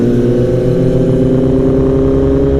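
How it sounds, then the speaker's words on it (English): A 2015 Kawasaki ZX10R motorcycle fitted with a loud Kaibo exhaust, cruising on the road, a loud steady engine drone that stays close and constant throughout. "This bike with Kaibo's exhaust is very loud, yeah, very loud. This is a 2015 ZX10R."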